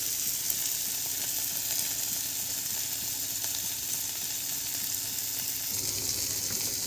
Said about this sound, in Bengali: মাছগুলোকে ভালোভাবে ভেজে নেব।